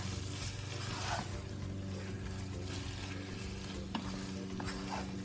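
Fish pieces frying in hot oil for Nigerian fish rolls, a steady bubbling sizzle with a couple of faint clinks, close and continuous without talk.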